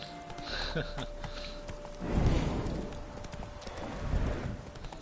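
In the video game The Witcher 3, a horse's hooves clip-clop in a steady, close walking rhythm, and a neigh and snorting rise partway through over a low ambient bed.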